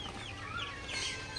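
Broiler chickens in a poultry shed cluck steadily, a dense overlapping chorus of short calls close by with no speech.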